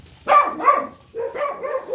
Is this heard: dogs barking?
yes